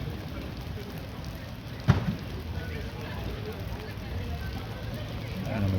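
Steady heavy rain roars as a dense broadband wash at an outdoor balloon festival, with one sharper knock partway through and a faint murmur of voices beneath.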